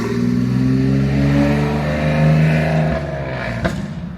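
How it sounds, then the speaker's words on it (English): A loud, dilapidated old car revs hard as it passes near a lakefront park path, its engine roar rising and falling and dominating the whole stretch, with a brief sharp knock near the end and no talk. "There's a dilapidated ancient vehicle, the loud one there."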